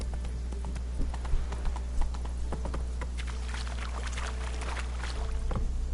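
Geralt's horse Roach trotting in The Witcher 3: Wild Hunt, a steady clip-clop of hooves near and clear, with faint market ambience beneath.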